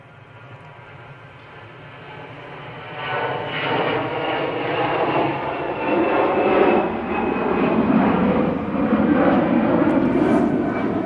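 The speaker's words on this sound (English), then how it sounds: "EasyJet on the roll." An EasyJet airliner on its takeoff roll at Manchester Airport builds from a distant rumble into a broad, steadily swelling engine roar that holds loud for several seconds, with no voices.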